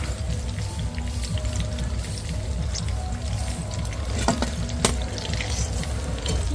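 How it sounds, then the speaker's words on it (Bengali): Moong dal puli pitha deep-frying in oil bubbles with a steady, close, dense patter, and a couple of brief sharper crackles stand out partway through. "দেখুন বন্ধুরা পিঠেগুলো ঠিক এরকম করে ভেজে নিচ্ছি"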